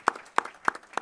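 Four separate, evenly spaced sharp claps ring out, close and fairly loud, with quiet gaps between them and no speech.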